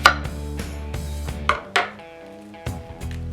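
A knife chops an onion on a cutting board in a handful of sharp, separate knocks at an uneven pace, close and clear, with no one speaking over them.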